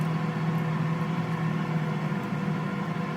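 A Power Air Fryer Oven Plus runs at 385 degrees, giving off a steady fan whir and a low electrical hum, constant and close with no change in level.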